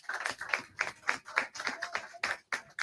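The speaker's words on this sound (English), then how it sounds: "Give Brother Cliff a big round of applause." An audience at a Pan-Africanism gathering claps for a speaker: sharp, uneven bursts of hand claps from a small crowd, fairly close, with brief gaps between volleys and no talk.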